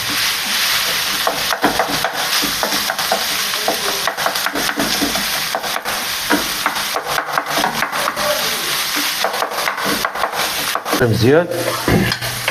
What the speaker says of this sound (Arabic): كنخلطو البصله مع الكفته مزيان باش طيب